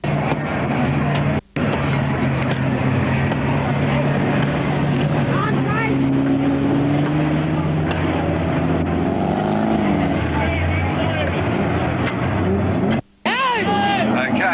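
Speedway race cars roar around the track at Murray Bridge, a continuous loud engine drone with rising and falling pitch sweeps as cars pass, with a commentator talking over it.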